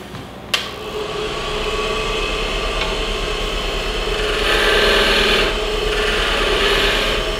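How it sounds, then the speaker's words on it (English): A piece of bocote is parted off on a wood lathe: a sharp tap, then a steady whirring and scraping rub from the spinning wood and tool, swelling briefly louder midway. "Okay, now we'll go ahead and part that off."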